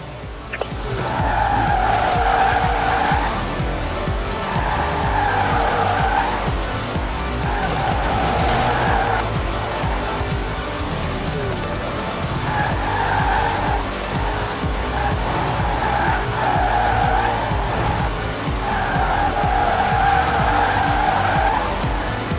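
A car drifts in the Forza Horizon 4 racing game, its tires squealing in long repeated sustained wails over a steady loud engine roar, with short breaks between slides as the car swings through corners.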